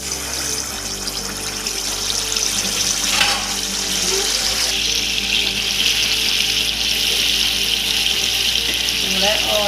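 Unnakkaya fry in hot oil in a pan with a continuous loud sizzle and crackle, close up and steady throughout.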